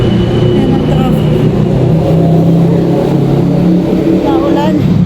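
Steady rumble of road traffic with car engines idling and revving nearby, a continuous urban din throughout.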